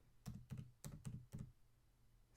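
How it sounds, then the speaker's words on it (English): An email address is typed on a computer keyboard as five quick, close key taps in an uneven rhythm, alone in a quiet room. "so you have to type it again to make sure that you didn't make a mistake."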